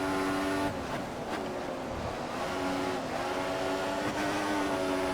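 An F1 car engine in the F1 2014 racing game at the Malaysian GP holds a steady, loud whine under throttle, running continuously with slight pitch shifts and no talk.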